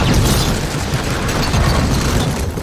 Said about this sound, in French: l'explosion du mur quand Dolores Umbridge fait irruption dans la salle.